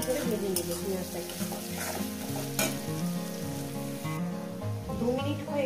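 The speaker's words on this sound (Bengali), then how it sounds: "2 মিনিট করে ভেজে নেবো পেঁয়াজটাকে" Chopped onion with salt fries in a pan and is stirred, giving a steady soft sizzle with scraping stir strokes. Background music plays over it the whole time.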